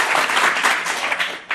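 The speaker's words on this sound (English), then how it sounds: "What a rousing cheer." A studio audience in San Francisco bursts into loud, sustained applause and cheering for a talk-show guest, a dense wash of clapping that rises and falls before tapering off.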